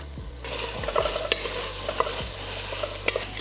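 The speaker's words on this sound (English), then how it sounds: "we're gonna come with our onions. Just go ahead and add those in there, right?" Onions, carrots and celery sizzling in a pot for chicken and dumplings, a steady frying hiss with several sharp clacks of stirring against the pot and a low hum beneath; no talking.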